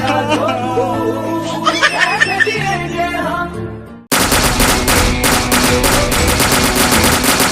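Laughter and chuckling come first, then rapid gunfire bursts out loud and continuous, like a game or sound effect, for the rest of the clip.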